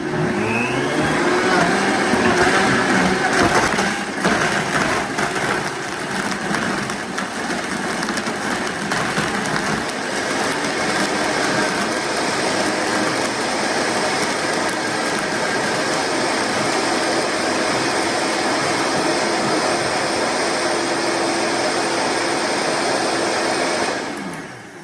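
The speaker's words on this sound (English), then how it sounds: "Make sure my blender is on," Countertop blender whirring through a green shamrock smoothie with a big cup of ice, loud, close and continuous, with a rough crunching start that settles into a steady high whine before cutting off.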